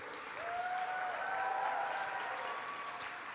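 An audience at a Texas youth summit applauds in a soft, even wash of clapping that swells after a moment and holds steady, distant rather than close, with a faint tonal hum underneath.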